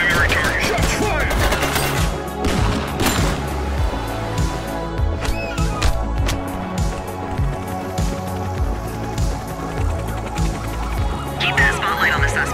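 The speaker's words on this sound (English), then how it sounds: "Shots fired!" Gunfire in The Precinct, a police action video game, crackling as dense bursts of shots under a continuous loud mix of music and effects throughout.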